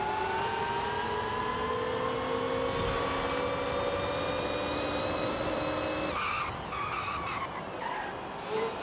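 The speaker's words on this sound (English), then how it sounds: "Actually, braking of this car is pretty good." A car in the racing game Forza Horizon 5 brakes hard with a long, loud tire squeal over the engine's whine, then releases, and the screech cuts off, leaving engine and road noise.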